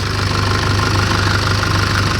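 A Nissan Patrol's newly replaced diesel engine runs steadily close by, a loud, even low chugging with a rapid regular knock and no voices.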